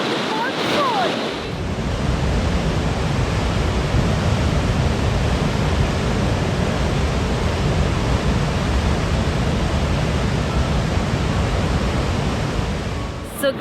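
Roaring waterfall in Iceland, a dense steady rush of falling water that fills the whole span, loud and close, with wind buffeting the microphone at the start.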